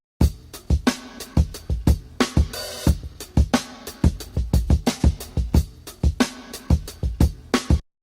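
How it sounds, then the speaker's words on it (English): A punchy drum break loops steadily, kick and snare hits in a tight repeating groove with crisp cymbal and hi-hat wash, loud and alone. "I've got this drum break that we're just going to look at for processing with this EQ for the moment."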